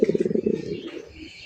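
Fancy pigeons cooing close by in a rapid burst of soft, throaty pulses that trails off into a quieter, rougher murmur.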